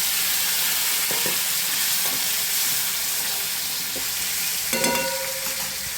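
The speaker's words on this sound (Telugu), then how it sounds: "ఒక టేబుల్ స్పూన్ ఆయిల్ యాడ్ చేసిన తర్వాత కట్ చేసి పెట్టిన టమాటోస్ అయితే వేసుకుందాం" Chopped tomatoes frying in a tablespoon of oil in a pan: loud, continuous close-up sizzling hiss with a few brief clinks of a utensil against the pan.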